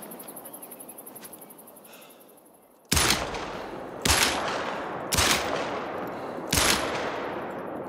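Handgun shots fired while hunting in The Hunter: Call of the Wild: four loud, sharp reports at irregular intervals, each with a short echoing tail, over quiet outdoor ambience with insects.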